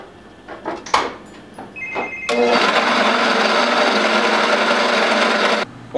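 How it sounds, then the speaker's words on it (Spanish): Power drill boring holes with a large half-inch bit while making a homemade throwing star, a few knocks and short whirs before a loud sustained high grinding whine that runs for over three seconds and then stops. "ahora vamos a pasar a hacerla con la broca grande para hacer los hoyos más grandes"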